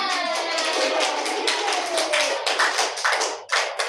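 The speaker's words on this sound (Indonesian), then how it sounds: "tepuk tangan untuk kita semua" A primary school class applauding during a micro-teaching lesson, a dense burst of many small hands clapping with rapid irregular claps, close and loud, ending with a few scattered claps.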